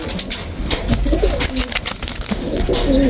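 Young racing pigeons coo softly and repeatedly up close, a few birds overlapping in low murmuring calls alongside light rustling and no talk.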